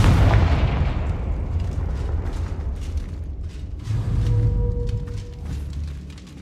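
A Confringo explosive spell in Hogwarts Legacy lands as a loud burst with a deep boom, followed by rumbling that fades, then a second swell of blast noise and a faint tonal hum.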